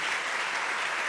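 A ceremony audience applauding at the inaugural event of a centenary celebration, a dense, steady roar of many hands clapping with no gaps throughout.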